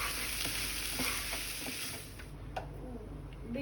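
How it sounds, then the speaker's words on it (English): Soaked rice and dal stir-fried over high flame for khichuri, a steady close sizzle with occasional scraping stirs and clinks of the spoon, no talk. "now we have to mix them properly and fry them for like 3 to 4 minutes"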